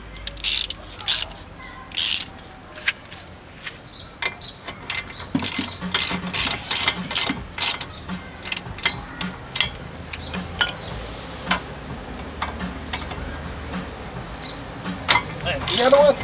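A ratchet with a 17mm socket turns a bolt on a vehicle, giving rapid, close mechanical clicking in repeated bursts separated by short pauses, with occasional clunks of the tool.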